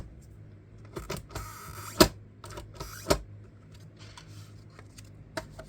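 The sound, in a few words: Mini Cinch binding machine punching a paper stack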